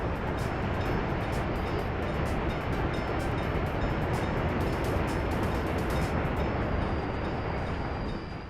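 Several trains rumble along rail tracks in the Workers & Resources city-building game, a dense continuous roar holding steady throughout with faint high clicks above, no talking.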